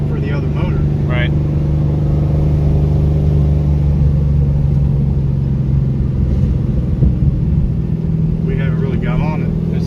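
A 416 stroker Camaro engine pulls under light throttle on a drive, a steady, loud low rumble that rises slightly, with brief voices at the start and end.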